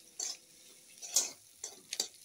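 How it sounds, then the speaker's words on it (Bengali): Chopped onion and green chili being stirred and fried in a pan, with a few soft sizzling scrapes and spatula taps spaced across the moment, quiet and close without speech. "কাঁচা লঙ্কা আর পেঁয়াজটা আবারও ভালো করে ভেজে নেব।"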